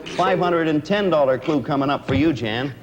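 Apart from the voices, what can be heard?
No everyday noise stands out behind the speech.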